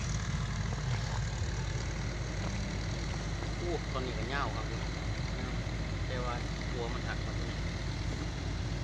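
A tractor engine rumbles steadily and loudly throughout, arriving to help push and move timber at a work site. Voices are heard faintly over the low, continuous drone.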